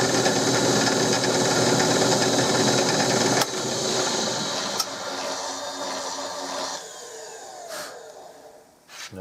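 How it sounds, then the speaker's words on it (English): A milling machine cuts a part for an old Winchester gallery gun, a loud continuous whirring grind that drops in pitch and level partway through, then slows with a few clicks near the end. "So, we'll cut it out on the mill."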